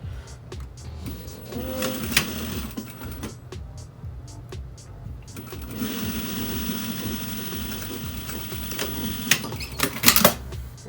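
A sewing machine stitching a 3/8 inch seam along the serged edge of a fabric face mask, running as a steady close mechanical whir with rhythmic needle clatter, a short pause midway, then resuming with a few sharper clicks near the end.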